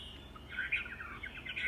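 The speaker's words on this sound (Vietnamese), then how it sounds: "Có cả họa mi hót nữa này" A hwamei, the melodious laughingthrush, sings a run of quick, bright chirps and warbles, fairly soft and somewhat distant against a low background hum.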